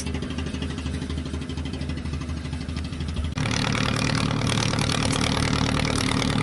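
A fishing boat's engine runs steadily and close by as an ice-carrying boat heads out from shore to sea off Hon Tre, its loud drone growing fuller partway through, with no talk.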